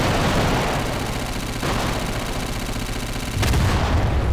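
Explosions and rapid gunfire in the video game Garry's Mod form a dense, loud rumbling barrage, with sharp bursts near the middle and a stronger blast toward the end.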